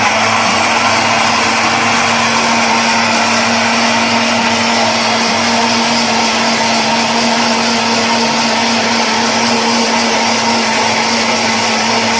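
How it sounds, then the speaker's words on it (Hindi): A blender blending mango lassi runs steadily at high speed for the whole stretch, a loud, constant motor whir with a grinding edge and no pauses. "ब्लेंडर में डालूंगी।"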